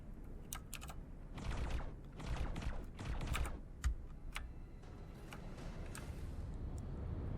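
Rapid bursts of gunfire from fighter ships attacking a target in X4: Foundations, crackling in dense clusters of sharp ticks with brief pauses, steady and moderately loud with no talk.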